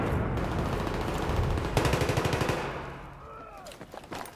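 Rapid automatic gunfire in an online match on the Metro map, loud close bursts of machine-gun shots in a steady rattling rhythm, fading to scattered distant shots with a faint voice beneath.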